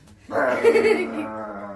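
A person imitates a dog's low growl, a single sustained rough vocal rumble lasting over a second, close and fairly loud, with no real dog present.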